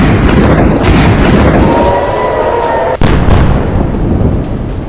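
Israeli bombs exploding in Lebanon, captured in news footage: a dense, continuous roar of heavy rumbling blasts with one sharp, close crack partway through, and no voices.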